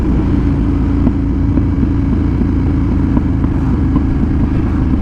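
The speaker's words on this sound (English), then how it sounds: "Oh, I love the sound of this exhaust." An Aprilia RSV 1000R motorcycle exhaust rumbles steadily and loudly up close, with faint pops scattered through the low engine drone.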